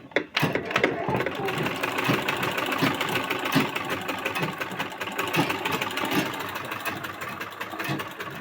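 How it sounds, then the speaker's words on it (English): A sewing machine whose reverse handle has come loose runs in a fast, steady mechanical whir with rhythmic clatter, fairly close and continuous, while a person speaks over it. "So but if I'm sewing now"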